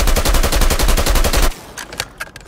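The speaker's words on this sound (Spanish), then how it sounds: "Porque se supone que tú disparas así." Rapid automatic gunfire from Call of Duty Mobile fired from the hip, a loud, steady burst of evenly spaced shots lasting about a second and a half, then a few scattered fainter shots and game effects.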